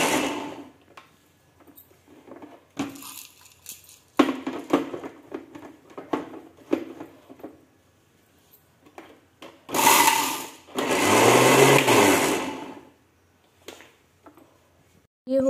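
A small electric juicer-blender spinning black peppercorns, with two loud whirring bursts of motor noise after scattered clicks and knocks of handling, the second burst longer and steadier.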